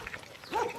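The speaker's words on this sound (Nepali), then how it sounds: "कुकुरले लहार्दैछ हामीलाई" A dog gives a single short bark at middle distance while chasing people in a rural private property area with trees in Romania, heard over outdoor background noise.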